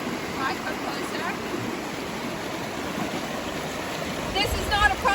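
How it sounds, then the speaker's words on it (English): Fast-flowing stream water rushes around a person wading knee-deep, making a loud, steady broadband wash with splashing that swells near the end. "the water's above my knees and it's faster than a walking pace"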